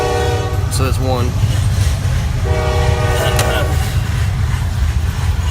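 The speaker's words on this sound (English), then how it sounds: "mind that train going by." A passing train sounds its horn in two long blasts, the second held longer, over a constant loud rumble of rail cars rolling by nearby, with no voices over it.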